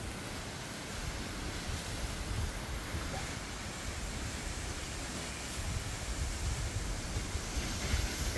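San Antonio waterfall in El Salvador, a steady broadband rush of falling water that continues without a break, with no speech over it.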